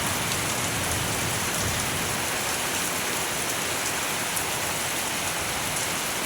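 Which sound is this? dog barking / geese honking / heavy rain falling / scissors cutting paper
heavy rain falling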